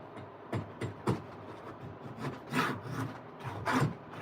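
Hand plane shaving wood for a box, a series of close, distinct rasping strokes with brief pauses between, each pass a short swishing scrape.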